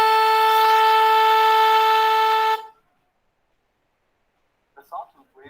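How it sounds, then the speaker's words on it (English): A steady sawtooth wave tone with a dense stack of evenly spaced harmonics sounds loud and buzzy for about two and a half seconds, then cuts off abruptly into silence, followed by a brief faint sound near the end. "And this is what a sawtooth wave sounds like."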